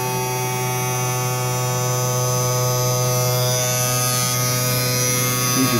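A Sparx skate sharpening machine touches up CCM 762 youth hockey skates, giving a steady, close electric motor hum with a buzzing, even drone that runs without a break throughout.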